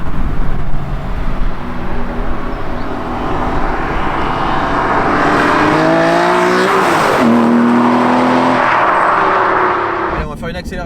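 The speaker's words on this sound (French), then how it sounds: "on va faire une accélération. Deuxième, j'appuie progressivement, je peux pas appuyer plus au plancher" An Aston Martin V12 Vantage with a manual gearbox accelerates hard in second gear with its wheels spinning, a loud, close engine roar that climbs in pitch, with someone speaking over it at the start.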